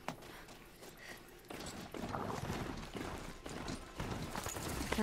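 Horse hooves clip-clop on the ground in the Horizon Zero Dawn video game, a steady close walking rhythm of hoofbeats with faint ambient game sounds underneath.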